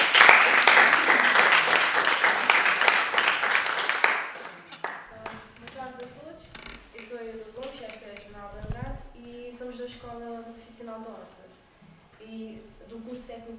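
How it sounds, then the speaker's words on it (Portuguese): Audience applause at a World Theatre Day event in Horta, a dense burst of clapping that fades out after about four seconds, followed by a voice speaking alone. "Uma salva de palmas para vocês."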